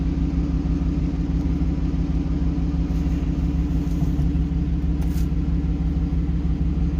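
Steady low engine rumble fills a car cabin while riding, a constant even drone with no speech over it.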